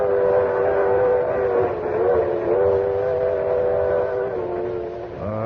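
A Limited Express passenger train bound for New York, heard from its observation platform, rumbling along with a steady low roar and a sustained whistle tone over it, fairly loud and continuous.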